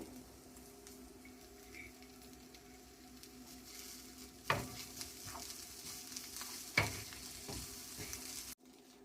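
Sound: stirring green peas into cooking vegetables in pan

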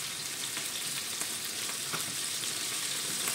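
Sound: hamburger frying in oil in a pan

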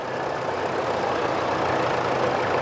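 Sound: four-wheel drive Farmall tractor engine passing by

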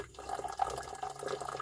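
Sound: pouring hot distilled water into gold waste solution

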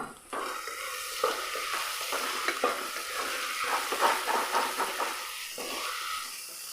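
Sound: stirring frying onions with a Maggi cube added

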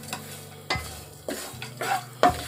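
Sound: stirring grated cashews and almonds in hot ghee

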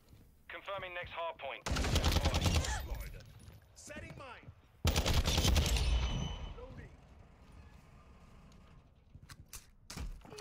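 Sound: ISO Hemlock weapon firing in Modern Warfare 2 video game

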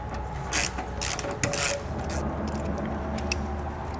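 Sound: socket wrench removing fasteners on Mercedes-Benz GLA

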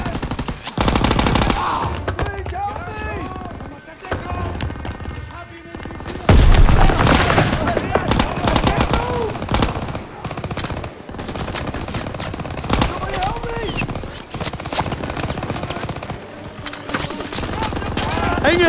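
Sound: machine gun fire in Call of Duty: WWII video game

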